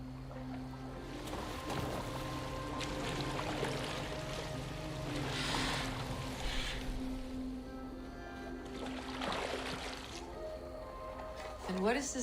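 A boat gliding through water in Assassin's Creed Valhalla, soft washing and lapping of water with occasional splashy surges under steady ambient music, while people talk over it.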